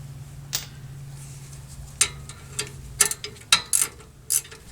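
Ratchet clicking as a brake caliper bracket bolt is loosened on the rear of a 2001 Chevy Silverado 1500 4x4, with a string of sharp, close metallic clicks and pawl ticks in short irregular bursts over a low hum.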